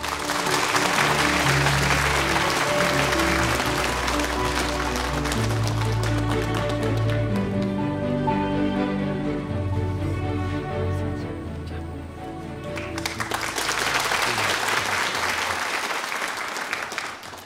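An audience at the 17th KBS Overseas Koreans Awards ceremony applauds loudly and steadily, with music rising beneath the clapping in the middle, then the applause swelling again near the end.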